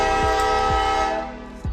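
A loud, sustained train horn blares over the rumble of a passing train, with a few heavy clunks of wheels and cars rolling by nearby.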